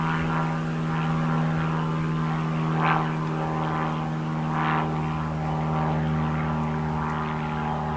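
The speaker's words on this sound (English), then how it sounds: "That's not a helicopter. That sounds more like a Cessna or something." A small propeller airplane, likely a Cessna-type single-engine plane, drones steadily overhead with a constant engine hum and propeller buzz throughout, loud and unbroken with no talking.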